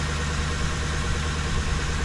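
A van's engine idling just after starting, during a mass air sensor repair, a steady close low-pitched rumble with even vibration and no talk.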